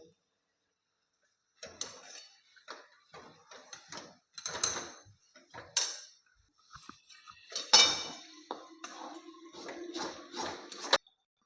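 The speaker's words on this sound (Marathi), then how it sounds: "आता आपण हे चांगलं हलवून घेऊया" A moong dal puran filling is stirred in a pot, giving a string of close, separate clinks and scrapes of a metal spoon against the vessel, with short pauses in between.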